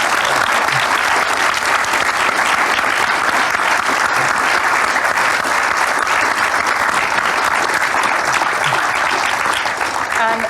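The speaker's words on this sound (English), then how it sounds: "round of applause, please" An audience at a BAFTA showcase event claps in loud, sustained applause that stays dense and even for the whole stretch.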